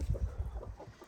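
An angry broody hen, just taken off her broodiness, clucks in a quick rapid series of low, gruff pulses close to the microphone, with no talk.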